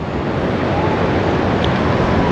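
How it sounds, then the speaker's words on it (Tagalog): Strong wind roars steadily at Casapsapan beach, a dense, unbroken rush buffeting the microphone over the surf, loud and constant throughout with no voices. "Napakalakas ng hangin."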